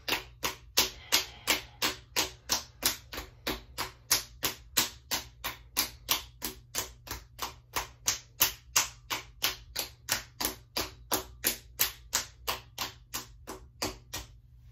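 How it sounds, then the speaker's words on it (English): Cupped hands clap rhythmically against a bare foot during self massage, a long, even series of soft, close slapping beats at a brisk steady pace with no talking. "And now we're gonna clap the foot."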